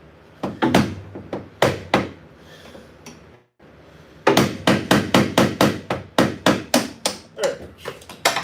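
Metal hammer blows on a punch driving a part out, loud sharp strikes coming in an irregular handful, a brief pause, then a fast steady run of about a dozen blows.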